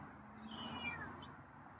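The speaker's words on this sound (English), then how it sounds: "that's kind of a meow" A single drawn-out feral cat meow, fairly soft and close, over a quiet background hum.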